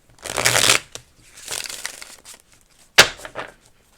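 Oracle cards being handled and shuffled, giving close papery riffles and slides in three separate bursts with short pauses between them.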